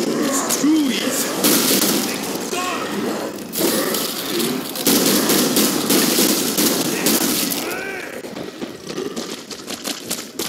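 Rapid gunfire in the zombie shooter Killing Floor 2 clatters almost continuously amid crashes and chaotic game noise, with people talking over the din.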